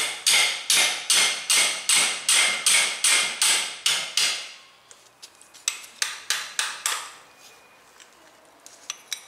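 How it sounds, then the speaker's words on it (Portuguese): A hammer taps steadily on the tip of a wrench to pierce an engine seal, about a dozen quick, evenly spaced metallic strikes, then a looser run of lighter taps, close and loud with no talk. "Vamos bater na ponta da chave até ela furar o selo"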